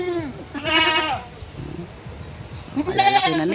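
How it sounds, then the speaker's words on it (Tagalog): Penned goats on a farm bleat twice, each a loud, wavering cry about half a second long, with a quieter stretch of rustling between them. "ito naman yung mga alaga ni tatay ng mga kambing"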